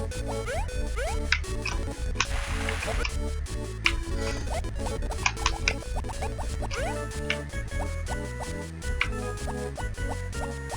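Crops are watered in Harvest Moon: More Friends of Mineral Town with a brief splashing, dripping burst amid steady, busy game music, while a person talks over the gameplay.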